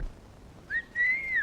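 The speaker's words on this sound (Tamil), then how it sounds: "எத்தனை தடவை சொல்லிருக்கேன் விசில் அடிக்காதே விசில் அடிக்காதேன்னு" A person whistles two short rising tones, a brief note followed by a longer sustained one, clear and close in an otherwise quiet room during a Tamil comedy scene.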